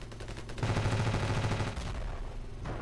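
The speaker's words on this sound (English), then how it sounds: "Today, I show you the Ravenfield anti-air cannon in use inside Ravenfield" Anti-air cannon in the video game Ravenfield firing a sustained, loud burst of rapid booming shots, steady for about two seconds before tapering off, with no talk.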